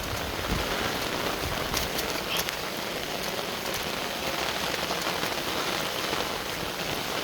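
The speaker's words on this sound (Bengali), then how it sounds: "এদিকে প্রচুর বৃষ্টি হচ্ছে" Heavy rain pours steadily over a tea garden, a dense, even hiss of drops hitting leaves and surfaces that stays loud and unbroken throughout.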